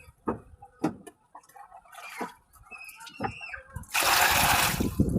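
Scattered knocks and faint sounds, then water begins running loudly and steadily for the last second or so, close by.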